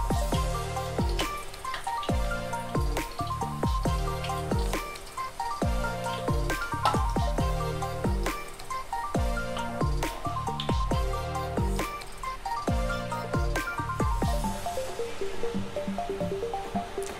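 Coconut milk murukku dough fries in hot oil in a pan, making a dense, continuous sizzle broken by crackles and pops, close and steady throughout.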